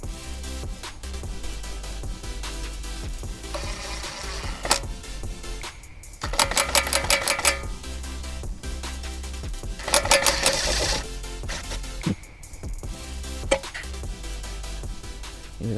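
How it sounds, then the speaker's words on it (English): A power tool spins lug nuts onto a 2014 Jeep Grand Cherokee wheel, giving two separate bursts of rapid, loud rattling whir against a steady background hum and occasional clinks. "Why are you using a power tool to put them on?"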